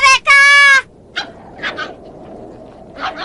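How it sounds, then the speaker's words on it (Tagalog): A dog in an animated series gives a sharp whine-like yelp up close, followed by a few short, fainter yips and bursts of noise. "Wow! Ang cute ng aso!"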